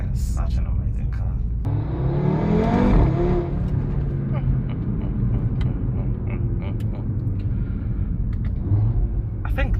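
A 2017 Audi RS3 (8V) engine drones and rumbles while driving, with a loud acceleration swell early on before settling into a steady cruise.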